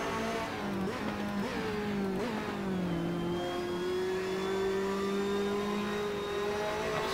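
A race car engine in the Assetto Corsa video game revs hard through the gears, a loud, steady, close whine with rising and falling pitch that settles into a sustained drone.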